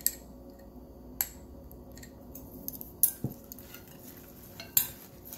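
Utensils clink against a bowl while a salad of fried chicken and cheese is tossed. The clicks and scrapes are faint and intermittent, with a few sharper knocks spaced apart.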